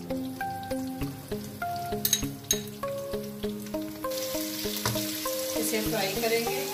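Onions sizzling as they fry in oil in a pan on the stove, a soft steady hiss that grows denser partway through, heard beneath prominent background music.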